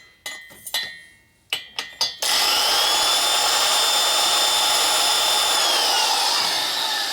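Hard valve seats are ground in a Harley ironhead cylinder head from a 1977 XLCR 1000cc Sportster, with a few sharp taps and clatters first, then a continuous high whirring grind that runs steadily, close and loud.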